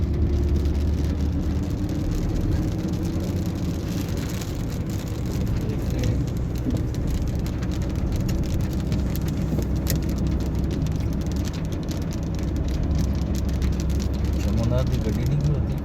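Steady rain falling on a city street in Afif, Riyadh, a constant dense hiss with cars rumbling past underneath, loud and continuous throughout.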